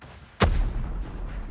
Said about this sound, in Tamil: நான் லான்ச்சர்ல அடிச்சேன்.